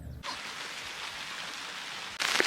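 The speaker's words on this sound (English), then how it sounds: "The rain has started coming down, so we're going back to our tent." Rain falling on a campsite tent during a Cotswold camping weekend: a steady, close hiss of drops drumming on fabric, constant and moderately loud, briefly cut before a brighter burst at the end.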